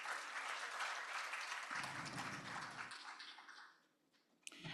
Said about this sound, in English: Can we have a round of applause for their kindness to make this day even sweeter?